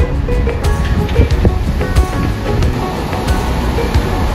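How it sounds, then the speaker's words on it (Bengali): Steady, loud rushing water from a waterfall-fed stream close by in Interlaken, Switzerland: a broad continuous roar with occasional splashes and gusts, no voices. "এই অংশে ঝর্ণা থেকে নেমে আসা পানিগুলো আরো কাছ দিয়ে বয়ে যাচ্ছে"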